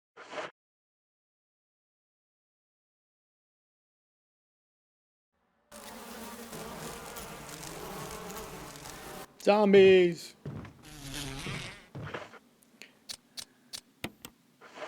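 Swarming bees in the Resident Evil remaster buzz loudly for several seconds before a spray burst and a scatter of short clicks as they drop, with a voice calling out once.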